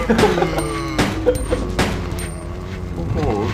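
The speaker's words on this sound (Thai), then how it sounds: "แล้วก็ยิง เรื่อยๆเลย ไม่มีวันหมดนะฮะ" Repeated gunfire in the 1998 Dual Shock version of Biohazard 2 (Resident Evil 2), several sharp bursts spaced unevenly across the moment, heard under someone talking.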